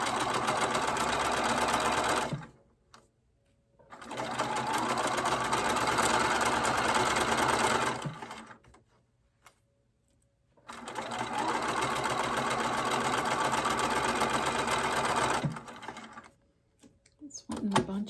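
Domestic sewing machine back tacking a fabric corner, running in two long loud close bursts of fast steady stitching separated by short pauses, with a brief third start at the end.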